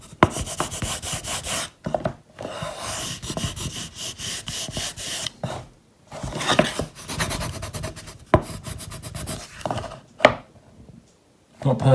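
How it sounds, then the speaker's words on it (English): A squeegee rubs and scrapes across vinyl on a DIY photo backdrop, pushing trapped air bubbles out through a small cut, in repeated broad strokes with short pauses between passes. "you can squeegee out the air through that cut"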